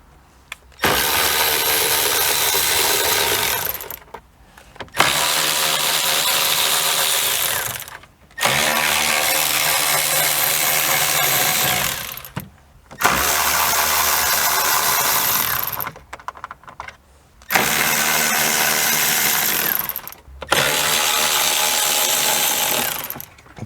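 Cordless power driver backing out 7mm bolts from a car footwell panel: six loud, near whirring bursts of about three seconds each, separated by short pauses, with no talking.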